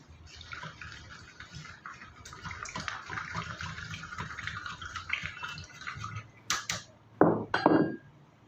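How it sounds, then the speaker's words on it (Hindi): Rice is washed with Kangen water in a bowl, with running and swishing water pouring for several seconds, followed by a few sharper splashes and clinks near the end, close by and with no talking. "वहीं पर हम किंगन वाटर से चावल धोते हैं।"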